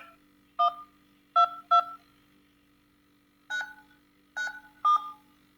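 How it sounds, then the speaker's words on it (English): Six short, clean phone keypad tones are pressed one by one to enter a conference code, in two quick groups of three separated by a pause, over a faint steady line hum. "Using your phone's dial pad, please enter your 6-digit conference code."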